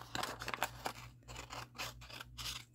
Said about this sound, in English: And I'll cut this excess off.